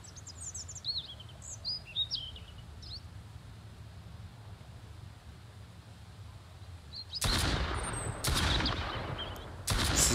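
Gunfire in the survival video game Mist Survival during a fight with bandits: several loud, sharp broadband shots near the end, following quiet ambient wind and distant bird chirps.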